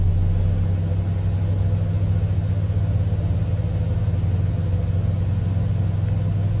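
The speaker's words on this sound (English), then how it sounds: "We can hear the differential hydraulic pump" Hydraulic pump of a Cessna Citation X in a flight simulator, a loud, continuous low hum with a steady rumbling drone that holds unchanged throughout.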